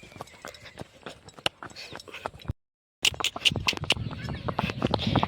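A mare's hooves clip-clop in quick, uneven strikes close by. The clopping breaks off for a short silent gap, then resumes, denser and louder.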